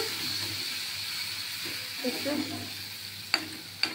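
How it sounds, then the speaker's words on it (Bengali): Spice paste for pomfret fish jhal sautéed in a pan without oil makes a soft, steady sizzle with a low hum underneath and a couple of sharp utensil knocks near the end. "মশলাটা কষাচ্ছি"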